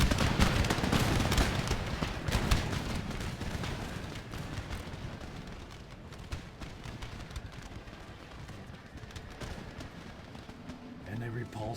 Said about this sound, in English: Unless artillery fire can help us out.